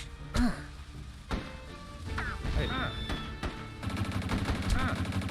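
Gunshots ring out in the Rango video game, a few sharp cracks early on, then faster bursts of fire toward the end, mixed with game effects and a man's speech.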